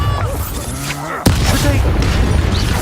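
A Bombarda spell explosion in Hogwarts Legacy, a single sharp, loud boom partway through, followed by a rumbling wash of debris and game ambience.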